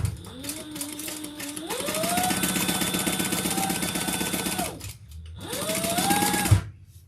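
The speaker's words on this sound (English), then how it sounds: "let's top stitch and sew that around" A sewing machine top stitches leather in a steady, fast mechanical whir with rising and falling motor pitch, running for several seconds, pausing briefly, then starting up again close by.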